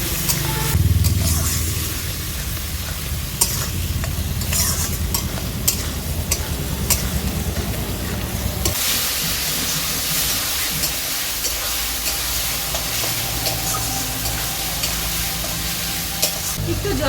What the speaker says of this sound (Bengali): এবার ভালো করে আমি মাংসটা কষে নেব।